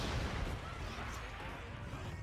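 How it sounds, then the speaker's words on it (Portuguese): A sustained explosion roars through a gang battle in Assassin's Creed Syndicate: a dense, loud rumble with crackling debris that holds steady for a couple of seconds, with a voice faintly present underneath. "Explodiu, mas não valeu nada."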